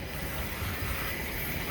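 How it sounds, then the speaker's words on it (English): A steady, droning engine hum with a broad hiss over it at a Navy base, constant and unbroken throughout, like a motor running nearby. "You can hear that engine whining behind me."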